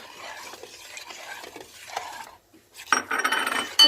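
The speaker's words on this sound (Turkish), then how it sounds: "içine döküp bir güzel karıştırıyoruz arkadaşlar" A spoon stirring a rice pudding mixture in a pot, soft scraping and swishing, then a short pause, followed by louder clinking, bubbly stirring at close range.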